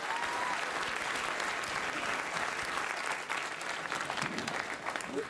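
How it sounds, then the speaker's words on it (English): A late-night talk show studio audience applauds, a dense, continuous roar of clapping from a large crowd heard at some distance, holding steady throughout with faint voices mixed in. "What are you applauding that for?"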